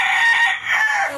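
A rescued fighting rooster with most of the feathers on top of its head missing crows once, loud and close, with a slight dip midway through the call.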